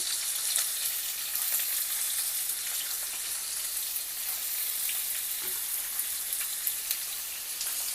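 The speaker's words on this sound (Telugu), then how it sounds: "ఆయిల్ అయితే కాగుతుంది. బంగాళాదుంప ముక్కలు వేస్తున్నాను," Potato and carrot pieces sizzle in hot oil in a pan on the stove, a steady bright crackling hiss with small pops, moderately loud and continuous.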